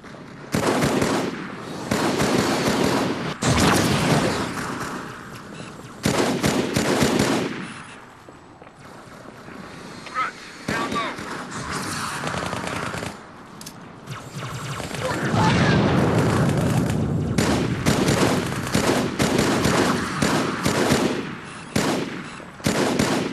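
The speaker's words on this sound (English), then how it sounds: "Covering fire." Sustained automatic gunfire and explosions in a Halo video game battle, loud dense bursts of rapid shots and booms filling most of the stretch, with occasional shouted voices under the fire.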